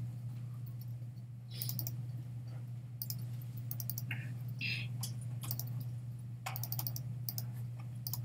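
Scattered bursts of computer keyboard typing, close clicks in short clusters over a steady low electrical hum, with pauses between runs.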